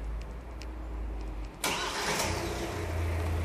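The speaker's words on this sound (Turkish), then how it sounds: "Çalıştırın arabayı." A Kia Sportage car engine cranks and catches after a quiet stretch, then settles into a steady, low idle close by, with no one talking.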